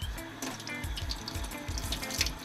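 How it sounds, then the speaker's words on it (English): Running tap water splashes steadily in a sink as a stitched fabric cuff is rinsed to dissolve water-soluble paper, with close, continuous flow and faint rhythmic sloshing of the cloth. "Our next step is we're going to wash all of this water-soluble paper off"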